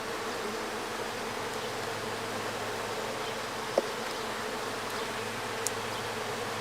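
Honey bees in a freshly opened beehive, twelve days after the colony was split, give off a steady, dense buzzing hum that holds throughout, with a couple of brief clicks from handling the frames.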